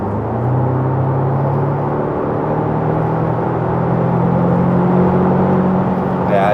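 An Audi TTS Mk2 with an S-Tronic gearbox accelerates under a firm throttle, its engine a steady, loud, close droning hum that climbs slowly in pitch and holds on without a break.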